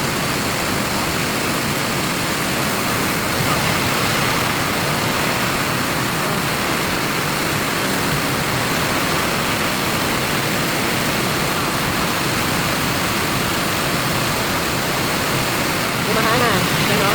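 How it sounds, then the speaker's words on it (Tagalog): Heavy rain pours down outside a home in the Philippines, a dense, unbroken roar of water that stays loud and steady from start to finish. "Ulan. Yun, lakas."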